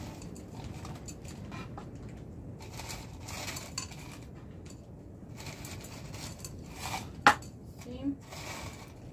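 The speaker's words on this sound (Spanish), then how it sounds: "déjenme echarle piedrita a esta que no le eché" Small decorative pebbles clink and patter softly as they are poured onto a potted succulent, a few sharper taps standing out, with a person talking quietly nearby.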